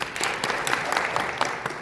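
An audience applauds to welcome a speaker at a government-agency business briefing, a dense, steady patter of many hands clapping in a hall for under two seconds, with no talk over it.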